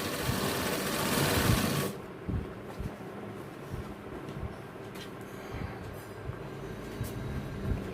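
A sewing machine runs fast while stitching gents' trousers along the canvas edge, loud and whirring for about two seconds before settling into a quieter, uneven run of stitches close by.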